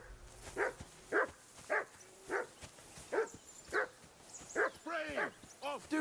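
Dog barking in Kingdom Come Deliverance II, a steady run of about ten sharp barks at a regular rhythm, fairly close, ending in a quicker cluster of yelping barks.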